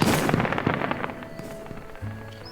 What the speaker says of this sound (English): How about we try some fireworks?